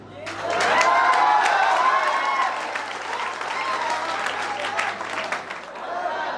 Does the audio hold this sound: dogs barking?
no